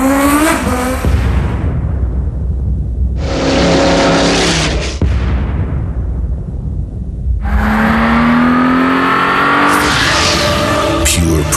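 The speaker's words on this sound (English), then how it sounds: "the world premiere of Forza Motorsport, the first fully customizable racing simulation" Race cars in the Forza Motorsport racing simulation roar loudly up close, engines revving and climbing through gears with whooshing pass-bys and a brief silent gap between bursts.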